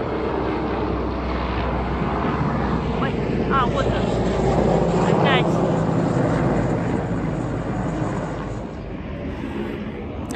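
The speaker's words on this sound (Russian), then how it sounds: "Опять летают вертолеты," Helicopters fly overhead on fire patrol above a dacha near Surgut, a loud, steady rotor and engine drone filling the whole stretch. Someone speaks briefly over it.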